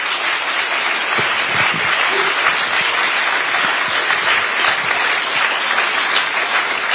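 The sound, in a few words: audience applauding a panel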